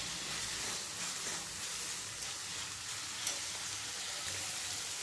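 Peanuts fry in hot oil in a pan for poha, giving a steady, soft sizzle with faint crackles and the occasional stir throughout.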